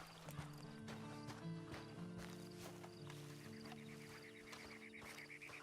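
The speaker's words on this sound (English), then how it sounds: "And you better get on this horse." Steady clip-clop of horse hooves in Red Dead Redemption Online, with game background tones and music, continuous and fairly close.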